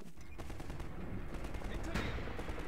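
Gunfire in the Half-Life 2 video game: rapid machine-gun style shots rattle continuously through a short, fairly quiet stretch, with a player's voice faintly mixed in beneath the firing.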